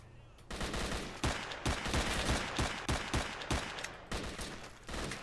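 Heavy gunfire rattles through a gunfight in the video game Stalker, with loud, rapid bursts and single sharp shots following each other closely for several seconds, close and dominant.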